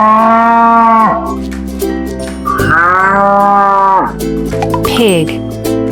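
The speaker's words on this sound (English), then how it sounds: "Cow." A cow mooing loudly and close up in a few long, drawn-out calls with falling pitch, each lasting one to two seconds, with no other sounds around them.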